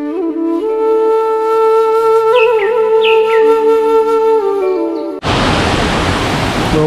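Loud, steady broadband rush of water at Godhgol waterfall near Kanker and Sarona, with mossy rocks, bursting in abruptly for the final second and a half after several seconds of sustained whistle-like tones.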